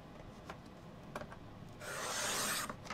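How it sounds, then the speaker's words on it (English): A guillotine paper trimmer slices cardstock for a Halloween card: a few faint taps and rustles, then one smooth, close swishing cut lasting under a second. "I'll just go ahead and trim this down"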